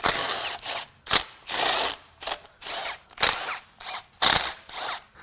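Ratchet wrench clicking in bursts while unbolting the turbo manifold from the head of a Volkswagen Jetta 1.9L TDI diesel engine during teardown, short ratcheting runs separated by pauses, close and fairly loud with no talk.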